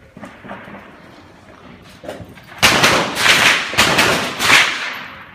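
Rifle shots fired at an outdoor shooting range during a timed kneeling and shoulder-position drill, heard as a series of loud, sharp cracks in quick succession after a quieter stretch, fairly close.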